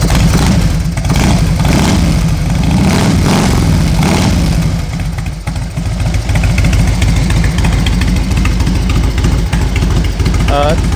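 A 2000 Harley-Davidson Road King motorcycle engine runs close and loud, first with uneven pulses and then settling into a steady, deep, throbbing idle.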